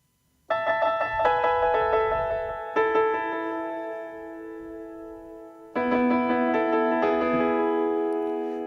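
Nord Stage 2 piano playing a song part through a 16th-note synced delay, sustained chords struck in a slow pattern, each ringing and decaying with soft echoes, clear and alone.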